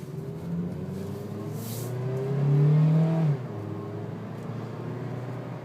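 A 2012 Honda Civic EX-L with an automatic transmission drives along, its engine humming steadily, then building to a louder rising rev as it accelerates before easing back to a cruising drone.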